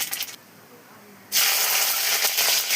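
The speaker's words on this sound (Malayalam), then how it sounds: "കടുക് പൊട്ടിക്കുന്നു." A loud burst of crackling sizzle as mustard seeds pop in hot oil starts suddenly after a brief quiet and keeps spitting steadily.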